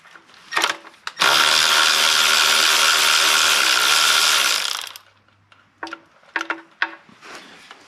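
Ratchet with a swivel extension and shallow quarter-inch 10mm socket working a tight corner bolt on a 2012 Dodge Journey 2.4L oil pan; a loud sustained whirring burst of about four seconds, framed by short clicks and knocks.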